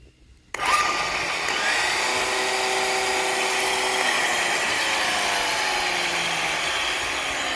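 An electric grass trimmer fitted with a 10-inch, 12-tooth circular blade switches on after a short quiet moment, then runs at a loud, steady high-pitched whine with a brief rising spin-up, close by and without talk.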